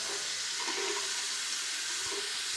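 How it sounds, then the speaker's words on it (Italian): A tap runs steadily in a bathroom while the water is left to heat up for shaving, giving a continuous hissing rush with no voices. "Devo aspettare l'acqua calda."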